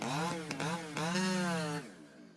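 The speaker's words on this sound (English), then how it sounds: "High-speed chainsaws" High-speed chainsaw cutting into a tree, a loud, close engine whine that climbs and holds under load before dropping off, with no voices.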